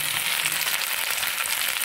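Red chilli powder, coriander powder, turmeric and garam masala frying in hot oil in a pan for a small-fish curry, giving a steady, close hiss and sizzle with no pauses and no voices.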